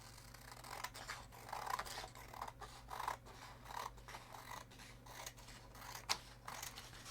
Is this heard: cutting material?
yes